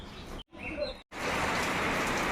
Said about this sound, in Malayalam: ഭയങ്കര മഴയാണ്